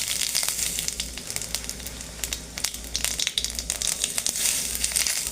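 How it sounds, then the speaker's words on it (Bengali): Cumin seeds sizzling in hot oil in a kadai for tempering, a dense, close, crackling hiss with sharp pops throughout. "কড়াতে তেল গরম করতে দিয়েছি। এবার দেব জিরের ফোড়ন।"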